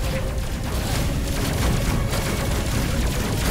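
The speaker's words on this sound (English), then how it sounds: "Oh, that was quite a big explosion." Dense, continuous battle noise from the space combat game Space Crew, with a heavy explosion rolling under steady Gatling gunfire and booms that fill the whole stretch at high, even loudness.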